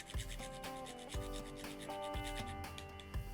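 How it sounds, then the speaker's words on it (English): Fresh nutmeg is grated by hand in a series of rhythmic rasping scrapes, about six strokes in a few seconds, close and fairly crisp with no talking. "I'm going to add in nutmeg, rather grate it nice and fresh"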